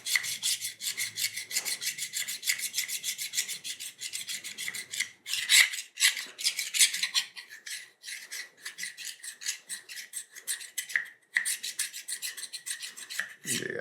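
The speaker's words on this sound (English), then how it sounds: "I'm trying to take this file to it and just see if we can" A metal file scrapes rust from the edge and body of a rusty carbon steel knife in steady back-and-forth rasping strokes, close and fairly loud, with brief pauses between passes and no talking.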